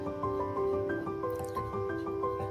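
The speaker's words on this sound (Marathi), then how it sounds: "हे बघा, दुधाला उकळी यायला सुरुवात झालेली आहे" Milk boiling in a pan on low heat, a soft continuous bubbling with small rhythmic pops and drips, close and fairly quiet, under a faint steady tonal hum.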